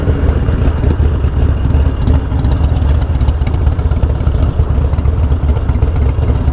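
A Harley-Davidson Dyna Low Rider S motorcycle engine idles steadily nearby, a low, loud, even rumble that holds for the whole stretch with no revving.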